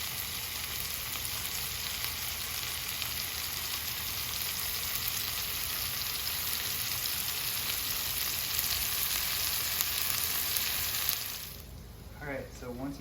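Porcini mushrooms sizzle and crackle in hot butter in a pan, a dense continuous frying hiss that fades near the end as a voice briefly speaks.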